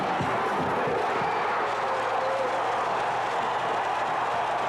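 A packed college basketball arena crowd roars steadily during a 1984 North Carolina at Arkansas game, a dense, continuous wash of cheering with no breaks.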